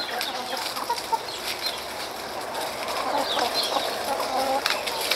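A chicken clucks in a Brazilian rural setting, faint, scattered calls over an outdoor background hiss.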